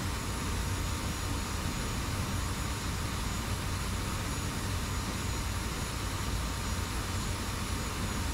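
Steady, loud F-86 jet engine roar in a flight simulator game, a continuous broadband rush with a low rumble, no voices, unchanging for the whole stretch.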